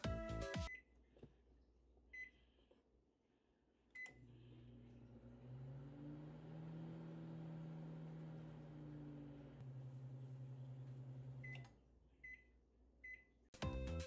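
A microwave oven hums steadily with a low drone, framed by beeps at the start and end, quiet room around it.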